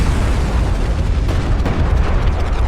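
A railgun fires and explosions boom in a Deserts of Kharak battle, a dense, loud, continuous rumble of low blasts with a few sharper bursts, and no talking.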